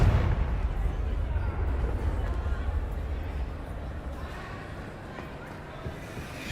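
A Confringo explosive spell goes off in Hogwarts Legacy, a loud booming blast whose deep, rumbling roar fades out slowly over several seconds.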